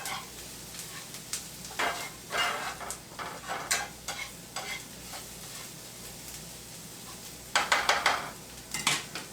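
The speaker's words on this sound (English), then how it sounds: "Let me stir our onions a little bit" Onions frying in a pan for a cheesy tomato bread recipe are stirred, giving scattered scraping and clinking strokes over a faint sizzle, with a louder burst of stirring near the end.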